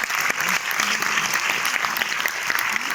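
An audience at a cinematheque film presentation applauds warmly, a thick, steady wash of clapping hands filling the room while a voice talks faintly beneath it.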